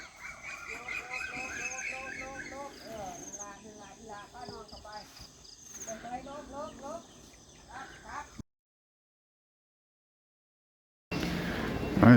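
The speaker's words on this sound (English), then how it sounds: "So I was taking the ducks home." A flock of ducks being herded home honks and quacks in busy overlapping bursts, followed by a stretch of silence and then a brief burst of louder noise.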